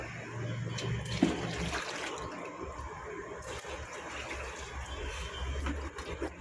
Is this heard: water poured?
yes